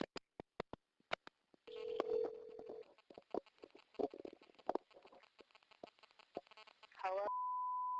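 A phone call goes out: clicks and short tones as the number is dialed, with talk and a prominent tone in between, ending in a steady, sustained ringback-style tone.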